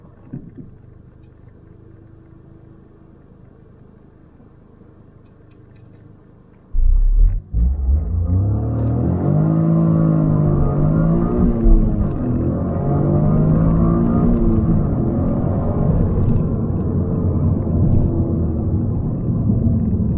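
A 2024 Toyota GR Corolla sits idling with a low, quiet rumble, then launches hard toward 60 mph, its engine roaring loudly as the revs climb repeatedly through the gears.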